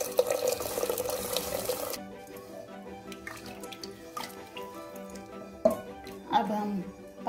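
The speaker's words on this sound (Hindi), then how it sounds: "चावल के अनुसार आप पानी डाल लीजिए।" Water is poured into a pot of peanut masala rice being cooked, a loud splashing pour for about two seconds, then softer drips, trickles and light clinks of cookware.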